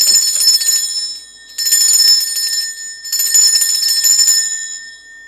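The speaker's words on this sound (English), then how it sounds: "I'm going to ring a bell just to cleanse the space around us" A bell rung three times in a row to cleanse a space: bright, shimmering rings, each sustained for over a second before fading, close and loud with no talking.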